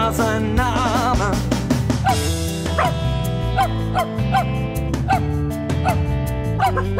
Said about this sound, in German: Ein Bauer hatte einen Hund